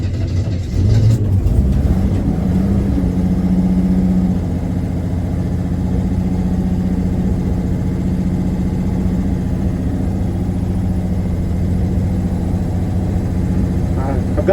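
A 1981 Chevy C10 square-body truck's carbureted engine runs close by in a steady, loud idle with a low drone and a brief rise early on, continuing evenly throughout.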